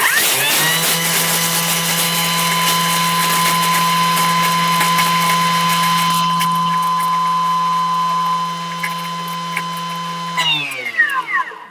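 Thermomix blender on a fast spin, a steady high-pitched motor whine held for several seconds before winding down and stopping with a few rattles.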